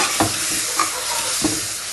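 Ginger, garlic and spices frying in a pan, a steady loud sizzle broken by three or four quick scraping stirs of the spoon, with nobody talking.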